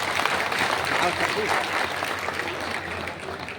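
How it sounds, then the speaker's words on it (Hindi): A seminar audience applauds in a dense, steady wash of clapping that holds loud throughout, with voices faintly mixed in. "ताली की गड़गड़ाहट के बीच ये सभा चल रही है।"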